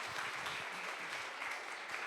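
Audience applause at a cycling seminar closing session, a short burst of steady, moderately distant clapping from a room of attendees.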